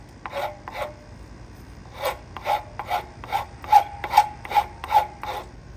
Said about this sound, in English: These Japanese Shintos are really fast at taking wood off.